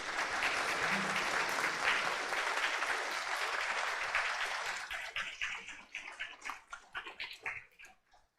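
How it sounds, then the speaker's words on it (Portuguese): A church congregation applauds the confirmands with a full, steady roar of clapping that slowly thins into scattered, separate claps before dying away. "Uma salva de palmas para os nossos confirmados"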